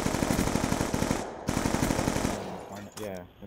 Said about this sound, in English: There we go, now I'm shooting automatically.